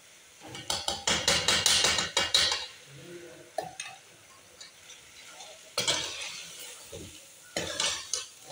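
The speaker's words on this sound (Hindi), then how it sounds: "ऐसे अच्छी तरह भून लेना है" Metal spoon scrapes and clatters in a pot of chicken karahi frying in ghee in quick bursts, with a faint sizzle beneath and pauses between rounds of stirring.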